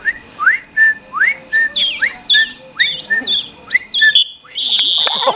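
A dolphin imitates a whistle with high, sweeping whistles repeating in quick rising and falling phrases, loud and close, ending in a sustained shrill squeal.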